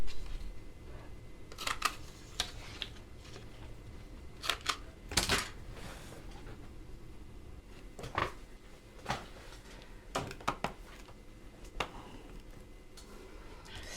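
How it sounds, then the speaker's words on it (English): Scissors cut scallops into cardstock with sharp, scattered snips and crisp paper crunches at irregular intervals, close and quiet between cuts. "in order to do that, I need to cut my scallops"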